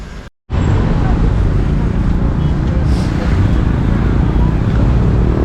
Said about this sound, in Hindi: ये सुबह सुबह ट्रैफिक का हाल यहाँ पे